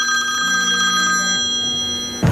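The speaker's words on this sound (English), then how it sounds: "till your phone rings." A telephone rings steadily and loudly with a bright, continuous electronic trill, and a dull knock lands right at the end.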